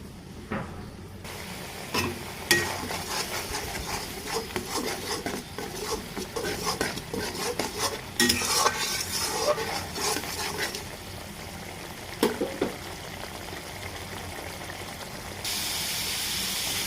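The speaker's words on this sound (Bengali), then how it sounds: "মশলা কষানোর জন্য মশলাটাকে এখন পাঁচ মিনিট কষিয়ে নিতে হবে" A spatula stirs and scrapes spice paste being fried in a pan for a riverside prawn and radish curry, giving a continuous close sizzle with irregular clinks and scrapes against the metal.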